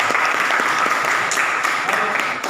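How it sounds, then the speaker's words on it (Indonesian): Applause from a classroom audience fills the whole stretch, steady and dense with scattered sharper claps, heard alone without talk. "tepuk tangan."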